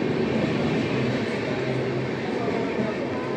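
A passenger train rolls along with a constant low rumble and rattle of wagons, heard from inside the carriage as one steady, unbroken wash of noise.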